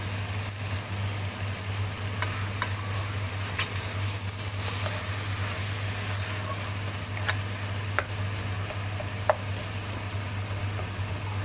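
Meat sizzling in a hot pan while tomatoes are mashed into it, a steady frying hiss with a low background hum and a few sharp clicks of a utensil against the pan.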